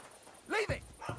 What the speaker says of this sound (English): Hey, clear off, you mutt!